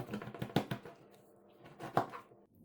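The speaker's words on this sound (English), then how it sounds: "Brush the knife with some oil and cut these into quarters." Oiled kitchen knife cutting raw jackfruit into quarters, a few sharp close chops and crunches with gaps between them, moderately loud, no talking.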